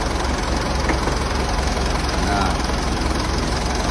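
A Mitsubishi Pajero Exceed automatic idles with a steady, low, even rumble heard up close, and faint voices underneath.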